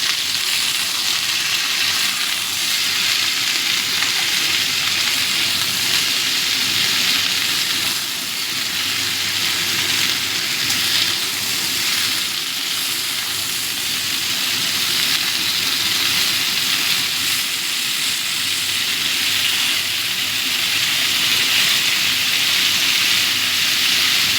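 Potato and cauliflower curry mixed with salt in a pan, a steady close sizzle and frying hiss running without pause, with no talk.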